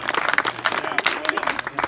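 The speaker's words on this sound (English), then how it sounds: "A big round of applause." A small crowd claps at a kayak bass fishing tournament award ceremony at Lake Camanche, a brief burst of close, uneven applause with voices mixed in.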